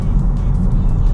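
Steady low road rumble and engine drone of a 2022 Honda Civic Sport cruising at around 60 mph, heard from inside the cabin as a continuous, even hum with no talking.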